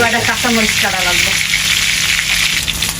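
Pangas fish frying in oil in a pan, a loud, steady sizzle and crackle close by, with a brief voice-like tone near the start.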